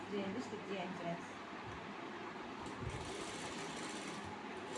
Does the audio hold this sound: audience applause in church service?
no